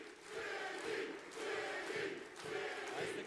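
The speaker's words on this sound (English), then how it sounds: "As the crowd serenades Ziggy" A distant crowd chants in rising and falling waves at an international axe throwing championship, a faint, rhythmic group serenade that swells three times across the stretch.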